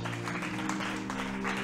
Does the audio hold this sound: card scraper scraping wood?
no